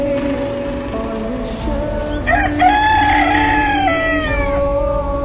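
A rooster crows loudly and close by, giving one long drawn-out call over softer clucking before and after, with no talking.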